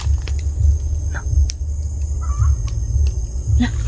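A chicken clucks faintly amid a low, steady rumble, with a few short calls scattered over a few seconds and no speech.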